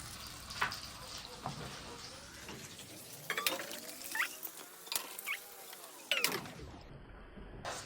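An egg fries in oil in a pan while fried rice is being made, giving a close crackling sizzle with scattered pops and spatters throughout.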